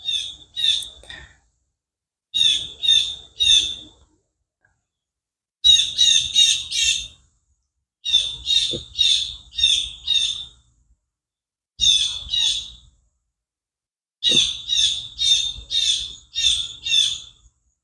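Birds squawk and chirp in six rapid bursts of repeated harsh calls, each group of notes separated by short silences, loud and close with no talking.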